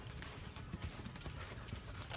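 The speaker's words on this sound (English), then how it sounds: "we decided to get horses instead" Horses clip-clopping along a hard volcano trail at Taal Volcano, steady hoofbeats close by under constant outdoor rumble, with no talk.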